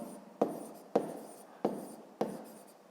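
Pen strokes scratch across paper while someone writes a fifth-grade maths exercise: four quiet, evenly spaced strokes, each starting with a sharp tap and trailing off, close by and with no talk.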